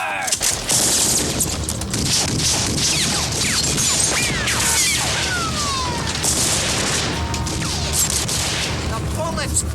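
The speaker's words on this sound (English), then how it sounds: "The bullets bounced off him." Dense radio-drama gunfire, a steady barrage of shots with ricochet-like whines as bullets bounce off Superman, loud and continuous under tense voices and score.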